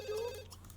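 A telephone in The Sims 2 gives a short, bright electronic ring, a single trilling tone that fades quickly over steady background game ambience.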